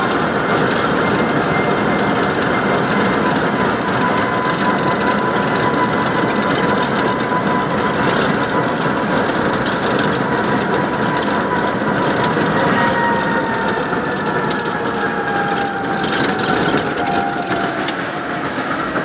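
A Renault Twizy electric car with about 13,300 km and its service warning light on drives along country roads, producing a loud, constant roar of road and wind noise with a faint gliding electric whine throughout.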